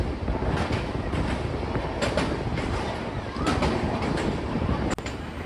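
The Darjeeling Mail passenger train runs on rails on its North Bengal route, a steady close rumble of carriages with repeated clicking wheel-on-joint knocks throughout.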